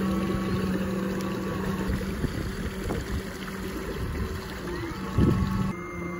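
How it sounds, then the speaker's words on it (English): A PacMotor front-mounted motor drives a kayak across the water with a steady, moderately loud electric hum over soft water and wind noise, and no one speaks. "you have a certain kayak that you need to have the motor mounted in the front"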